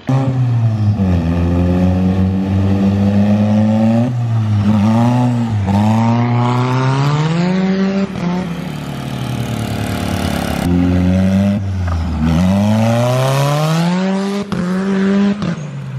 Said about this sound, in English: Drifting around in all sorts of different cars on a pretty empty terrain like they have here in Florida